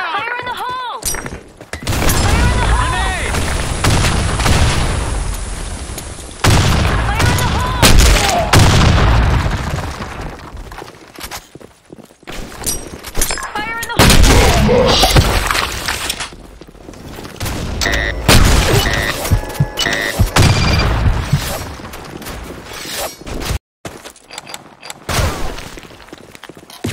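Grenade blasts and bursts of gunfire in the shooter game Blackshot: loud booming explosions with debris, rapid rifle fire and mechanical clatter, dense and close, with brief shouted voice lines in between.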